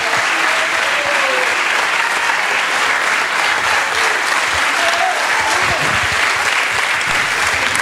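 An audience applauds at a Dimaro Folgarida gathering with Sarri, Maggio and Jorginho, a loud, sustained, even roar of many clapping hands with no break.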